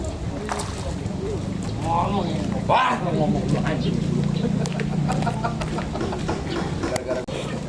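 A chicken clucks in short bursts at a fishing pond, mixed in with people talking nearby and ambient outdoor noise.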